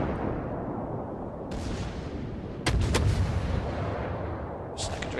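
Warship guns on the Scharnhorst fire in a naval combat video game, a few sharp booming salvos cutting through a continuous loud rumble of battle noise, with a later shot near the end.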